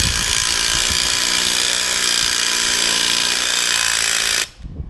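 A power tool runs continuously, hammering lug nuts down onto a Dana 44 limited-slip differential on a K5 Blazer. The buzzing rattle is loud and close for about four and a half seconds, then cuts off abruptly.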